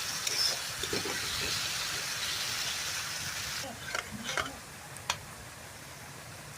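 Spice masala frying in a pan gives a faint steady hiss, with occasional soft taps and scrapes of stirring toward the end, all quiet and close, while someone speaks over it.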